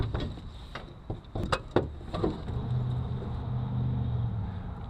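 The hood of a cheap 5.0 Ford Mustang with a replacement 302 block is lifted open. A few sharp clunks and creaks come close up, followed by a low, steady rumble with no talking.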